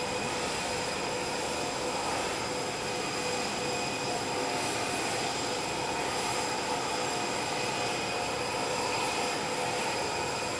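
Air Force One jet arriving at Palm Beach International Airport, a loud continuous engine roar with a steady whine that fills the whole stretch without letting up and no voices.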